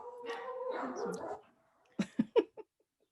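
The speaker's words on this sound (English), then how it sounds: "Puppies." Puppies whine and whimper nearby in a drawn-out, wavering cry, followed by a few short, sharp yips in quick succession before silence.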